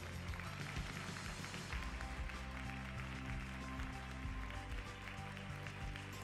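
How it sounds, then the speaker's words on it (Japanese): Audience applause during the prize presentation at a Miss beauty pageant finals in Niigata, a continuous crowd clapping spread under sustained background music and hall ambience, moderately loud and even throughout. "大きな拍手をお願いいたします。"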